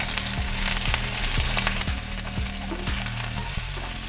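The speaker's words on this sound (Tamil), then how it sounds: "இப்போ கடுகு நல்லா உடையுது" Mustard seeds crackle and pop in sizzling hot oil, with a steady fry underneath and soft regular knocks of stirring, while making little millet kuzhi paniyaram; no one speaks.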